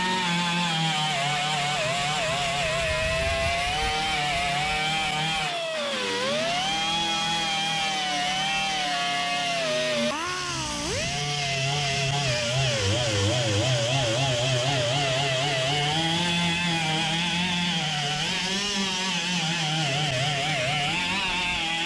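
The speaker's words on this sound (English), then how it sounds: "So now that I've worked the area down with my 24 grit Rolock disc on my angle grinder" Angle grinder with a 24-grit Roloc disc grinding body filler on the fender of a 1959 Dodge Coronet: a loud, continuous close-up whine whose pitch sags and recovers as the disc bites, with no talking.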